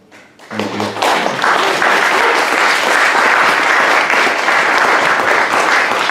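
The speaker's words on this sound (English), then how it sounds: "Another round of applause for Mervyn." After a brief voice at the start, an audience bursts into loud, sustained applause for a poet after a reading, a dense even roar of clapping that continues to the end.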